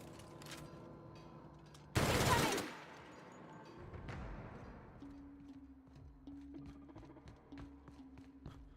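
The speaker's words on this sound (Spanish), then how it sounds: "Y esta, la ametralladora ligera." Light machine gun fire in The Outer Worlds, one loud sharp burst of rapid shots followed by a decaying rumble, with quieter game sounds before and after.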